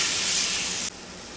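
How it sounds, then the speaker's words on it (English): Hamburger meat sizzles and hisses loudly in a pan on a stovetop, a dense steady frying roar that drops abruptly to a softer sizzle partway through, with no voices. "cook it until your hamburger gets done."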